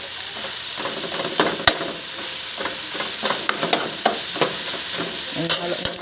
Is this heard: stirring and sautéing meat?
yes